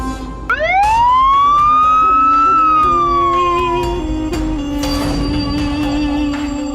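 A loud police siren wails up in a rising sweep, holds, then slowly falls, with a clattering crash of noise near the end.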